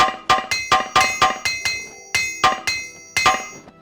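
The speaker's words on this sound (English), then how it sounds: "I'm gonna sit here for a second and hammer away on whatever needs hammering" Metallic hammer strikes at a smithing and repair station in the game Morrowind, about a dozen bright ringing clinks in a steady rhythm with brief pauses, close and clear with no voices.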